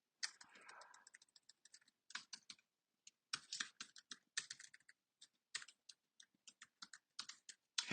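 Rapid, irregular clicking of computer keyboard keys as a command is typed, close and quiet, with short pauses between bursts and no voices.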